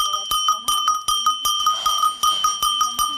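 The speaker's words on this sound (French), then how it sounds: "On peut pas enlever les cloches aux chèvres" Bells on the necks of goats clank in a quick, uneven series of metallic rings, loud and close, with no voices.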